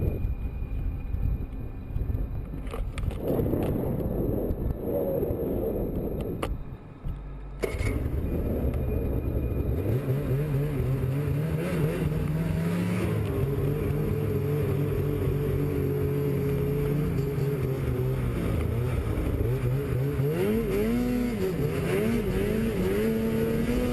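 Snowmobile engine straining up a steep mountain slope near Sisimiut, Greenland, a loud continuous motor drone that rises and falls in pitch as it revs, with heavy wind rush over the microphone and a brief dropout partway through.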